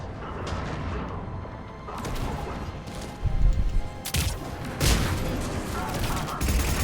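Heavy cannon blasts boom repeatedly in a battle in Mass Effect 3, several loud impacts with crashing debris over rumbling background noise.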